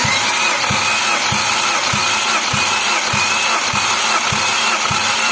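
A Perodua Myvi engine, freshly overhauled, cranks and runs with a steady thudding pulse roughly every half second under a loud, continuous mechanical roar, close up and with no talking.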